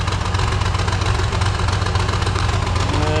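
A Cummins N14 diesel engine, heavily smoking, idles loudly and close, a steady low rumbling chug with a rough knocking pulse throughout.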